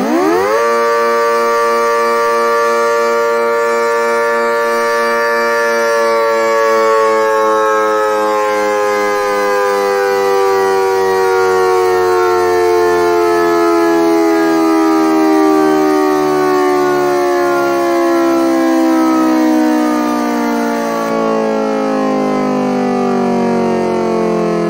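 Thunderbolt 1003 civil defense siren on a finished test run, winding up into a loud, steady harmonic wail that slowly falls in pitch as it coasts down over about twenty-five seconds, heard alone with no talking.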